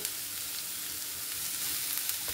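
Onion sizzles steadily in hot oil in a pan, a dense, even frying hiss with faint crackles, close and continuous throughout.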